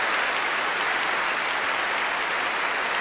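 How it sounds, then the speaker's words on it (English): Steady applause from a group of participants on a Zoom video call, a dense continuous wash of clapping that runs evenly throughout with no pauses and no talk over it. "We're having applause for you guys."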